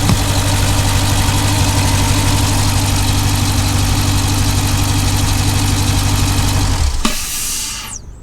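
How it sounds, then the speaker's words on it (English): Jeep Grand Cherokee SRT 6.4 V8 fitted with a cold air intake idles loud and close with a steady low rumble, then the engine cuts off sharply near the end, leaving a brief fading whoosh and quiet. "It made an extra sucky noise after the engine was already all the way shut off."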